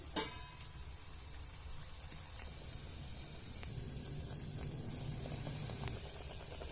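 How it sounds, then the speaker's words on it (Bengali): Luchi, a puffed flatbread, dropped into hot oil and frying, a soft steady bubbling sizzle after a brief splash at the start, close and quiet without talk. "একটা লুচি আমি তেলে ছেড়ে দিলাম, তেলটা গরম হয়ে গেছে"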